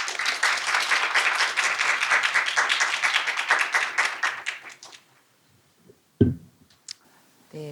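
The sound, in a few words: audience applause welcoming a lecturer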